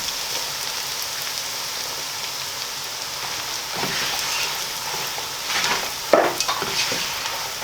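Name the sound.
garlic and onion sautéing in a pan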